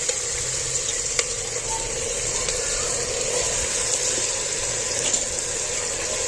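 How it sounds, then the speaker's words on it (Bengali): Meat fries with spices and is stirred in a pan, an even, moderate sizzle with a few faint clicks of the spoon, steady and close. "নাড়াচাড়া করে ভালো করে কষিয়ে নিতে হবে।"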